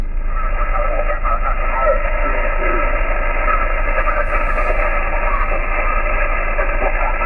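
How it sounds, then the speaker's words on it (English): Ham radio station faintly heard on an Icom 7300 transceiver in a winter forest park, a steady hiss of band noise with a weak, muffled voice buried underneath throughout. "Now I'm starting to hear someone on the frequency"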